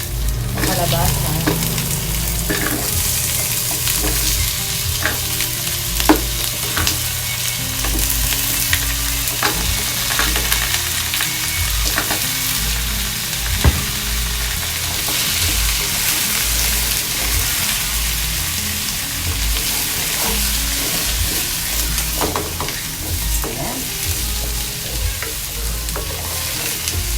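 Pumpkin frying in a pan with plenty of onion and garlic, a steady loud sizzle with repeated scraping stirs and clinks throughout, no voices over it.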